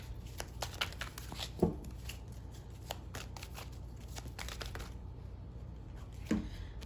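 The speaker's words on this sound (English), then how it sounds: "I'm gonna pull one from the Psychic Tarot, and then I'll pull one from Moonology" Tarot cards being shuffled and pulled, heard as soft repeated riffling and papery flicks with a couple of sharper card snaps, close and fairly quiet against a low steady background hum.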